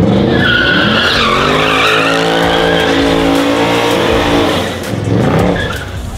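Loud tires squealing and skidding over a roaring, revving engine of an 800-horsepower widebody Corvette doing donuts, continuous for several seconds with a brief dip near the end.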